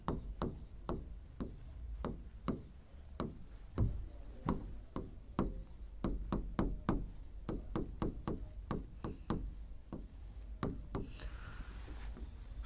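Chalk or marker writing a topic heading on a board, a quick series of sharp taps and short scraping strokes in an uneven rhythm, close and fairly quiet, with no talk.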